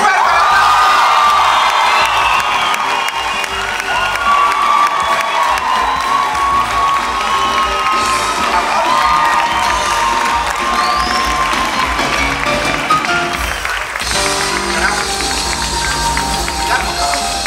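A television studio audience cheers, shouts and applauds loudly as the singer enters, a dense sustained roar of whoops and clapping, with voices shouting over it.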